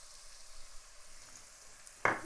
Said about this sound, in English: stirring all of that onion, all of that garlic